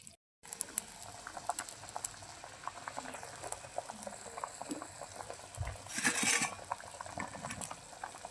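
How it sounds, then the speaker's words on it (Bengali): Fish curry broth bubbling at a rolling boil in a pot over a clay stove, a continuous crackling patter with a brief louder surge of bubbling, close and alone. "মাছের ঝোল ফুটে গেছে"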